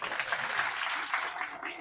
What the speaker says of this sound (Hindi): जोरदार तालियां भाई